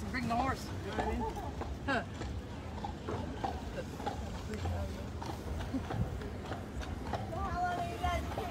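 Horse hooves clip-clop in an uneven rhythm on the street during a horse and carriage ride through Cape May, New Jersey, heard under steady conversation between passengers and driver.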